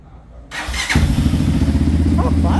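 After a short quiet moment, a starter whirs and a 250cc Honda Strada motorcycle engine catches, then settles into a loud, throbbing idle nearby.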